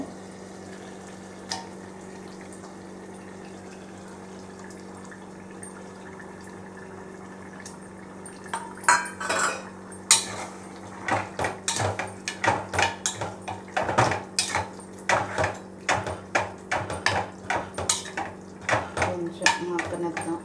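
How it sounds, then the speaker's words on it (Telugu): Mutton pieces dropped into a pot of cooking tomatoes for aloo mutton curry, a low background hum at first, then a string of close wet thuds, clatters and scraping stirs that grows busier toward the end. "ఇప్పుడు దానిలోకి మటన్ ముక్కలు వేసుకుందాం."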